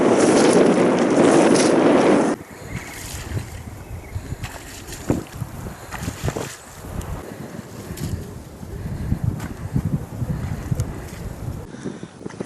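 Gusty wind rushes over an open spring marsh, rumbling hard against the microphone at first, then easing into a lower, uneven buffeting with scattered faint rustles and knocks.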